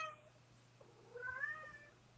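A single drawn-out cat meow, faint but clear, rising and falling over a quiet background hum.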